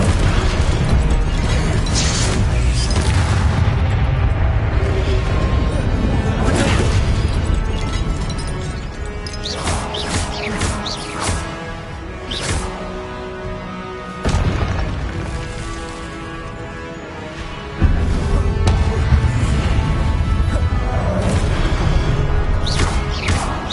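Confringo spell explosions in Hogwarts Legacy: loud fiery blasts and booming bursts recur through a chaotic battle, with sharp cracks and rumbling impacts layered over continuous combat noise.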